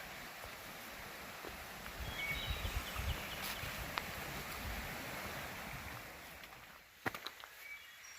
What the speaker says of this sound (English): The birds, the water,